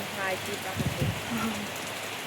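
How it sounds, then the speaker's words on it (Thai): Night rain from a storm in southern Laos falls as a constant hiss of drops on surfaces, with a faint voice murmuring underneath. "นี่ก็คือบรรยากาศฝนตกตอนนี้เด้อทุกคน"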